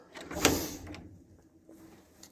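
A door slides and bangs shut with one sharp thud, followed by faint rattling and quiet shuffling.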